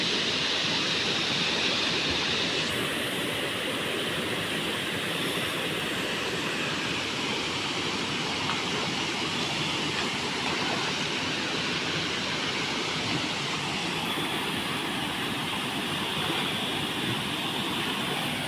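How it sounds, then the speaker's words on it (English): Pinipisakan Falls, a waterfall near a cave in the Philippines, roars with a dense, unbroken rush of falling water heard close and loud throughout, steady with no pauses. "Here go now the waterfall."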